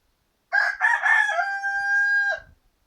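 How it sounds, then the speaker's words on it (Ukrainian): A rooster crows once, close and loud, a rough rising call ending in a long held note, then silence. "наші голосисті півники"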